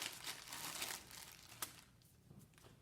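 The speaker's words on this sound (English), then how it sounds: "Zip the bag shut." Crinkly plastic rustling and crumpling of a zip bag, close up, with a sharp click midway as it is zipped shut, then quieter handling noises.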